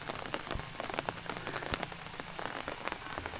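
Rain falling outdoors near a village, pattering on surfaces with scattered close drops and sharp ticks over a soft continuous wash, fairly faint and with no voices.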